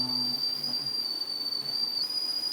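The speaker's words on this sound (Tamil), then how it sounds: "ஏன்னா அது விசில் வந்துன்னே இருக்குது" Thin, steady high-pitched whistle from an idli steamer releasing steam on the stove, held continuously over a soft hiss.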